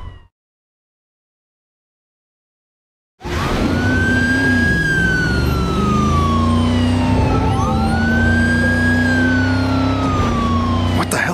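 Wailing ambulance siren from the Driver: San Francisco video game, loud and close, sweeping up and down in long cycles over a steady vehicle engine drone after a few seconds of silence.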